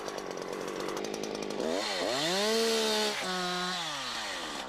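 A Husqvarna chainsaw cutting into a tree, loud and close: the engine idles, then revs up sharply and holds a high strained whine as it bites, drops briefly, and revs again.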